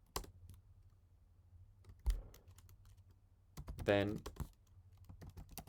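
Keyboard keys clicking as a pip install command is typed, a quiet run of taps with a short louder burst, faint room hum underneath and a brief word spoken.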